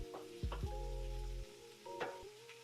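Ground beef for a picadillo burrito sizzles in a hot pan while a wooden spoon scrapes and breaks it up, with a few sharp knocks against the pan over the steady frying hiss, close and alone.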